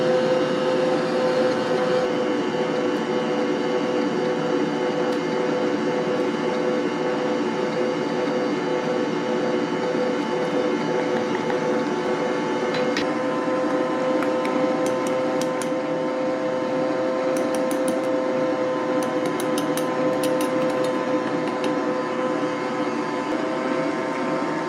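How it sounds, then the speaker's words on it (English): Electric mixer whirring steadily as it beats buttermilk and vanilla cake batter, a loud continuous motor drone with harmonic whine running throughout, with no voices over it. "when I turn this mixer on, you can't hear me"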